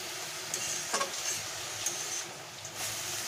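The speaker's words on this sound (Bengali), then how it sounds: "তো বন্ধুরা এটাকে আমি সুন্দর করে ভেজে নেব।" Pumpkin leaf paste frying in a pan, a soft steady sizzle with a few light scrapes of stirring, quiet and close, no voices.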